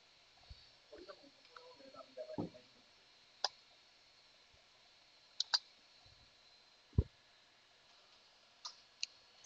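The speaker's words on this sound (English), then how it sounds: "Click on this icon and select Enlightenment." Mouse clicks while selecting an icon on a computer desktop, several sharp isolated ticks spaced irregularly, quiet and close, with faint rustling early on.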